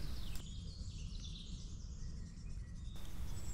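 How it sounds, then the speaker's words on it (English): A wren, robin, wood pigeon and blackbird sing and call at once in a steady outdoor chorus, with high trills and chirps layered over soft background noise. "here's a wren and a robin"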